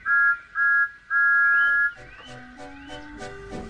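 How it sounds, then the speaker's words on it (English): A high steam locomotive whistle blows in three bursts, two short and one long, followed by fainter warbling tones in the background. "he whistled impatiently"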